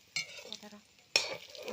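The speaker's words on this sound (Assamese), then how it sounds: "ইয়াৰ শুকান চয়াবিন তেলত এনেকুৱা কৰি ভাজি আছোঁ" Dry soybean chunks fry in hot oil in a pan, stirred so that two sharp bursts of sizzling rise, the second louder and lingering, with no talk.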